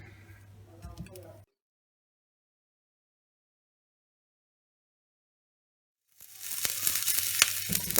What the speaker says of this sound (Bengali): বাটারটা জাস্ট গলবে, আর রসুন পোড়াও লাগবে না, শুধু বাটারটা গলবে।